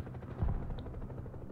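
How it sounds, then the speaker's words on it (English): Distant artillery fire in the Broken Arrow multiplayer war game: a dull low boom swells and rumbles for a moment amid a steady background of battle noise, with no talk over it. "I got artillery fire right now."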